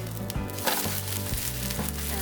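Utappam batter fries in hot oil in a pan as it is flipped, giving a continuous close sizzle with a few brief clatters of the turner against the pan.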